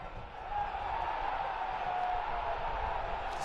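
A stadium crowd keeps up a steady roar during a Louisville City FC versus Charleston Battery professional soccer match, the sound continuous and broad with no clear spikes.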